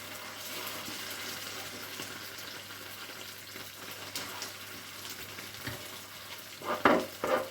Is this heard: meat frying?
yes